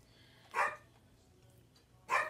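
A pet dog barks twice indoors, two short separate yaps about a second and a half apart, moderately loud against a quiet room.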